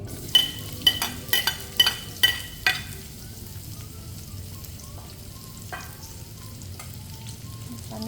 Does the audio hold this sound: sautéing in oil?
yes